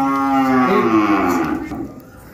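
A cow or buffalo on a farm gives one long, loud, drawn-out moo close by that fades at the end, with no other animals clearly audible.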